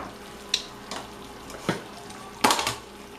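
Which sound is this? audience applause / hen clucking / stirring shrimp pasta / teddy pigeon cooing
stirring shrimp pasta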